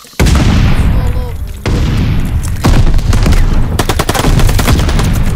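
Loud, dense gunfire and booming blasts in Call of Duty Vanguard ranked play, with rapid bursts layered over heavy rumbling explosions, continuous throughout, and some speech mixed underneath.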